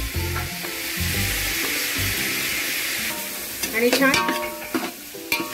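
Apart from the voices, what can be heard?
onion and tomato being sautéed in a pan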